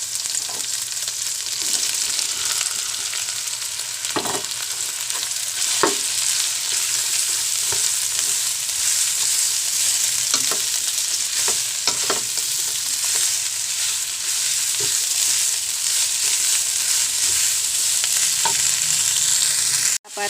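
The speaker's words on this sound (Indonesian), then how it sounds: "Tumis sampai cabai ini layu, baru masukkan sayur yang sudah direbus tadi." Chilies stir-fry in a pan with a loud, continuous sizzle, broken now and then by soft scrapes and taps of a spatula, with no talking.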